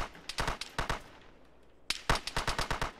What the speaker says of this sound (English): Looks like we're shooting these guys down here.